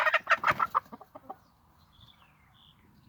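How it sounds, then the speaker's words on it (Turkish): Hens on a small poultry setup give a quick run of loud, close clucks that thin into a few softer calls, then fade to quiet ambient hiss with faint distant tones. "Evet arkadaşlar bizim de tavuklar böyle işte bu gene yattı."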